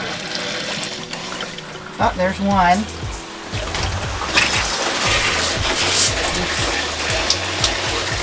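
Water starts running from a tap after the supply is turned back on, a steady splashing flow with some sputtering, while a person talks over it.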